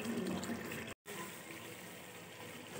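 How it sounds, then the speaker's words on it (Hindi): Water pours steadily into a pan of beef kofta curry after the masala has been fried until the ghee separates, a continuous close gushing fill with one brief cut partway through. "तो बस अभी हम इसमें डालेंगे पानी"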